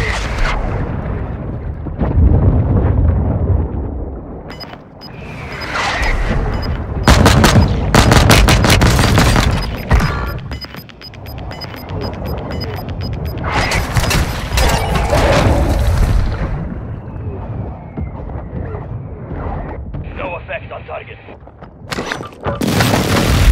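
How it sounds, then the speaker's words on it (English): Mortar strike explosions in the video game Warzone 2, a series of loud booming blasts and crackling impacts with gunfire bursts, separated by short lulls, with voices talking intermittently. "Mortar strike inbound now."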